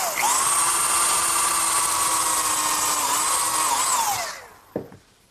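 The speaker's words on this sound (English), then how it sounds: "I'm going to pre-drill for the screws using a combination drill countersink." A combination drill countersink bit whines steadily at high speed while pre-drilling screw holes in sandbox lumber, running loud and unbroken for about four seconds before spinning down, followed by a single sharp knock.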